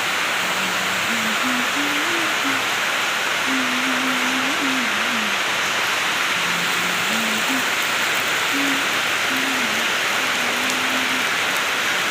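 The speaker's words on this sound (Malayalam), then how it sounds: "എന്താ മഴ" Heavy rain pours down steadily in a dense, constant hiss that lasts throughout, with a faint, low tone drifting beneath it.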